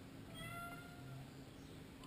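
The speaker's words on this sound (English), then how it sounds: "even the cat is objecting" A cat meows indoors in a few drawn-out, whiny calls, moderately close and fairly quiet over a low background hum, with no talking.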